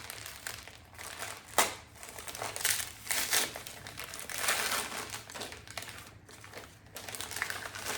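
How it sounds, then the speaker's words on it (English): Taped-up packaging around small butter pats is peeled and unwrapped, giving close, continuous crinkling and crackling with irregular louder tearing bursts throughout. "I think I taped these up, so I'm going to unwrap them so you'll hear that for a little bit."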